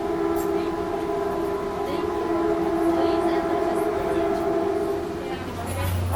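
A train idles at a station platform on the way to San Francisco, giving a steady, loud drone of sustained tonal hum with faint clanks and ambient station noise throughout.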